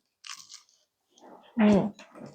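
A single loud crisp bite into crunchy smoked ham served as an amuse-bouche, sharp crackle at close range, with quiet French talk before and after.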